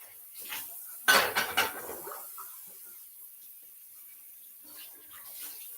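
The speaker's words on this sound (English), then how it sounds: "And when I'm doing it, I'm trying to catch up on dishes." Dishes, pots and pans from the weekend clatter and clank in a kitchen sink while bacon cooks, a loud burst of clinking crockery and cutlery that settles into faint handling noise.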